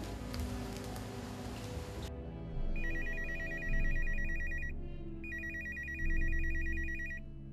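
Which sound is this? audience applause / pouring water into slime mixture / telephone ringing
telephone ringing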